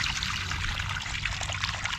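Water trickling and dribbling from a lifted garden hose while chili plants are being planted, a short close pouring patter.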